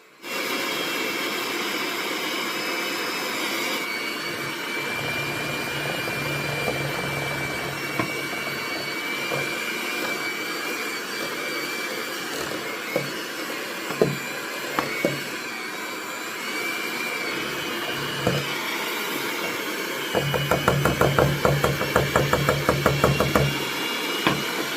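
An electric mixer creams butter with gradually added confectioners' sugar for a one-pound-butter pound cake, giving a steady, loud whirring drone that runs throughout with no talking and turns rougher and more rattly near the end.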